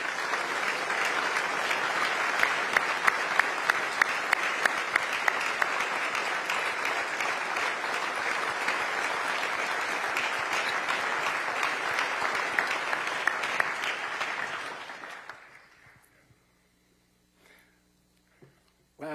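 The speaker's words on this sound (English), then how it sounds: "please rise for a well-deserved round of applause" Sustained applause fills a hall as city directors and deputy directors stand at a State of the City address on Oahu, a dense, steady clapping from a large audience that fades out near the end, leaving near silence.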